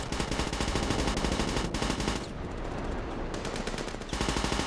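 A Russian PPSh submachine gun in the video game Ravenfield fires rapid, sustained automatic bursts, loud and close. There is a short pause in the middle, then the firing resumes, with no talking.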